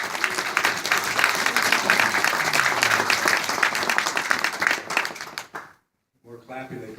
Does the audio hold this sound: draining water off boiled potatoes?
no